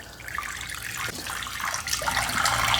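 Hot tap water running into a kitchen sink for cleaning a cast iron pan, a steady close splashing stream that grows slightly louder, no voices over it.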